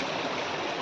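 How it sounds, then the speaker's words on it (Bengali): Water from a waterfall-fed stream rushes past a village in the Nepal mountains near Muktinath, giving a steady, full roar of flowing water, close and continuous, with no voices. "গ্রামের পাশ দিয়ে কিরকম ঝর্ণার জল নামছে।"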